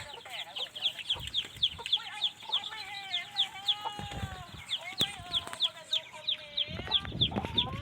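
Farm chickens, with a rooster among them, clucking and calling on rice-field farmland where ducks and pigs are also kept, a busy run of repeated clucks and squawks at close to moderate distance with no talking.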